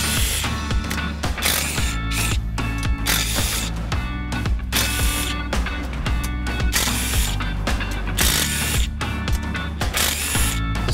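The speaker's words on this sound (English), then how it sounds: "we're gonna disassemble the pump" Tools are used to take apart the water pump on a Yamaha F225–F300 4.2L V6 outboard, a loud, continuous rapid ratcheting close by. Metallic clicks and brief pauses are heard as the fasteners turn.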